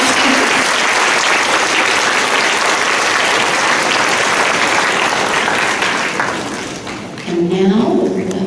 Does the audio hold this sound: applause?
yes